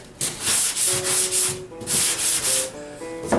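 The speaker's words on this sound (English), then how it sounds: "continue to sand, choose a selected area" Hand sanding of epoxy primer on a BMW 2002 body panel: a close, steady rhythm of about eight rasping back-and-forth strokes with faint squeaky tones, no talking.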